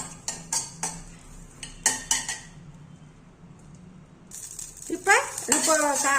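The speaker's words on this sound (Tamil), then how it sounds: "ஒரு சொட்டு ஆயில் சேர்த்து ஒரு மூணு நாலு பூண்டு பல்ல இதை வறுத்துக்கலாம்" Garlic cloves and curry leaves roasting in a little oil in a pan: a metal spoon clinks and scrapes against the pan in separate knocks, then a hissing sizzle swells up while a voice talks over it.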